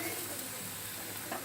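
Tomatoes frying in a pan while cooking a Bengali prawn curry, a faint even sizzle and hiss with light stirring noises, close and continuous.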